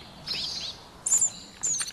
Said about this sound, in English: The swallow calls out in panic.